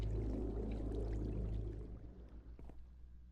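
A waterfall in the Minecraft video game flows with a steady, full rush of water that holds loud and even, then thins and drops back slightly toward the end, with no talking.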